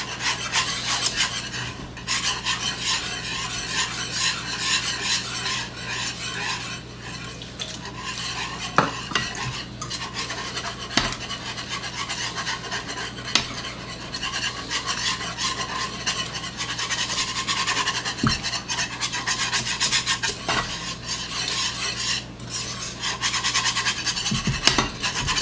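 Milk stirred into the base sauce for a beer cheese dip in a pot, the utensil scraping and swishing continuously close up with faint sizzling underneath and occasional clinks of metal on the pan, no talk.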